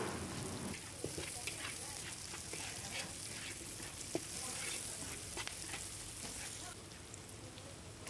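Lemongrass and tempeh stir-frying in a pan with a steady, even sizzle and faint crackle, with soft scattered taps of stirring running throughout.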